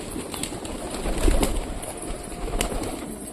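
Pigeons in a colony coo softly amid a busy background hum, with a few brief flutters and sharp sounds close by.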